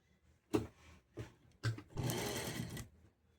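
Sewing machine stitching piping onto a blouse neckline, running in short bursts: three brief starts, then a longer continuous whir, close and fairly quiet.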